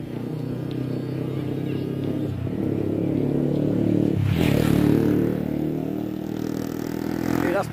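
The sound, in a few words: motorcycles speeding along a street at night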